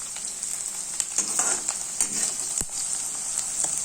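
Onion and green chilli frying in a pan, a steady bright sizzle running close and continuous throughout, with a few soft scrapes and one sharp knock partway through, and nobody speaking.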